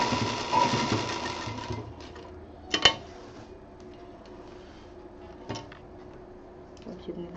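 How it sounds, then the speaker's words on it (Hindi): A sewing machine stitches a fabric hair safety cap in short, quiet runs of rapid mechanical ticking, with a couple of sharper clicks and handling knocks in between. "यहाँ पे कम से कम 3-4 सिलाई चला देंगे।"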